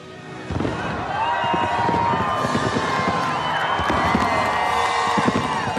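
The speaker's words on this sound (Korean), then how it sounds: "방금 들어보신 그 불꽃놀이가" Fireworks at the Republican National Convention during the nominee's acceptance night, with crackling bursts and booms under a loud, continuous crowd roar of cheering and whooping.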